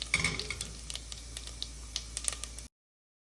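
Whole spices, among them black and green cardamom and star anise, sputter in hot oil for a pulao, making a close crackle of small pops and ticks over a low sizzle that stops abruptly, with no one speaking.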